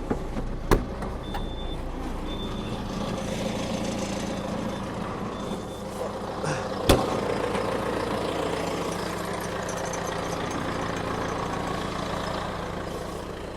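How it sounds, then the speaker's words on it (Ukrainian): A John Deere 6330 tractor, a utility model of about 125 to 128 horsepower, idles with a steady, close diesel rumble, with a couple of sharp clicks over the even engine drone. "заведемо, почуємо двигуну тракторця"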